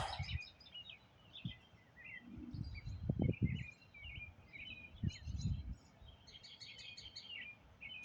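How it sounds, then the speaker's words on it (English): Birds sing at civil twilight, with repeated chirps and warbled phrases at moderate distance. Low rumbling bumps run intermittently underneath. "Civil Twilight, the birds are going pretty good."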